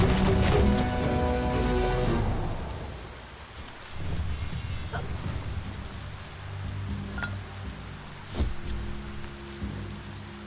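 In the Biomutant video game world, heavy rain patters steadily while thunder rumbles, with a loud rolling crash at the start and a sharper crack later, the downpour continuing underneath.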